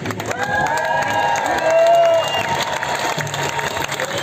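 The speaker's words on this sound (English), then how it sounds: "put your hands together for Dean Davies" A large outdoor crowd at an anti-mandate protest in New Zealand applauds and cheers for a speaker, steady clapping and shouts filling the whole stretch at close range with some scattered voices.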